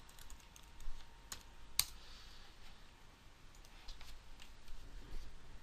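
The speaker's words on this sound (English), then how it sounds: "the athlete can now fill it in, type their name in" Scattered clicks of typing a name on a computer keyboard, faint and irregular over a steady low background hum, with one sharper click partway through.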